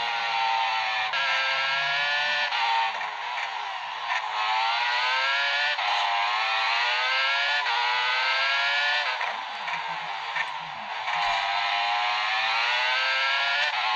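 A racing game on a PlayStation Vita plays a car engine droning and revving continuously, with pitch rising and falling through gear changes and a steady synthetic whine, loud and unbroken with no talk.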